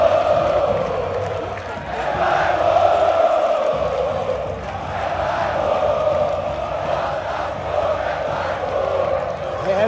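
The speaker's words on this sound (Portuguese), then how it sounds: "Torcida do Grêmio provocando a torcida do Botafogo aqui, cantando que Botafogo é bairro aqui em São Januário" Grêmio supporters chant at Botafogo fans inside São Januário stadium during a football match, a massed crowd voice rising and falling in a steady sung rhythm, heard from within the stands and filling the whole stretch.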